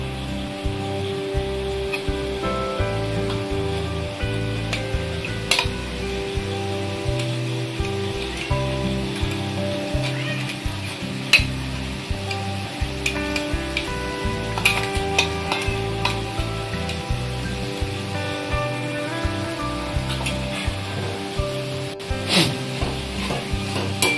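Shepu (dill) greens being stirred with crushed peanut powder in a pan, a steady scraping and stirring with soft sizzling throughout, close and continuous with no talking.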